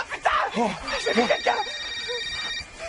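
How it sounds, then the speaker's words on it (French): A mobile phone ringing nearby with a steady electronic tone under excited, shouting French voices, the ring continuing alone briefly after the talk. "Il y a un téléphone qui sonne."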